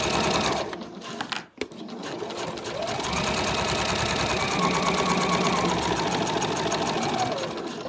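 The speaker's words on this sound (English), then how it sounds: "just going to sew along the bottom edge there" A sewing machine stitches along the bottom edge of a fabric travel wallet, a close, rapid, steady mechanical whirr with a brief stop and restart before it runs on continuously.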